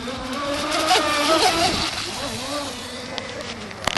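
Motorboat running at half throttle, a steady engine drone over rushing, splashing water, with voices talking briefly over it.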